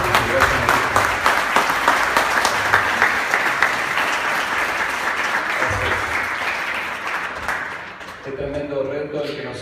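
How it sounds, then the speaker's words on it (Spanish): Sustained applause from a church congregation after a sermon, dense, even clapping that carries on for several seconds before tapering off, with a voice emerging near the end. "Aplausos."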